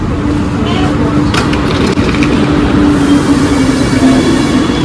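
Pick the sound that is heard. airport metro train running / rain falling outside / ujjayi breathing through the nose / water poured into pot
airport metro train running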